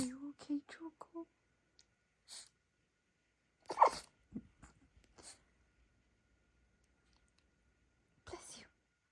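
A dog sneezes in a short fit of sharp, close bursts: a cluster near the start, one loud sneeze in the middle and another near the end, with small snorts and quiet gaps between them.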